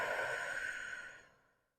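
A single long exhale during a Pilates abs workout, a soft airy breath close by that slowly fades to silence.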